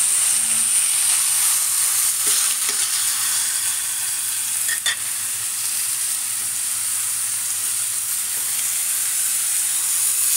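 Chicken pieces sizzling in a pot while cooking adobo, a steady, bright, close frying hiss that holds evenly throughout with a few faint clinks of a utensil and no talk.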